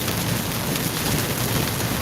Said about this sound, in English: when it's raining like now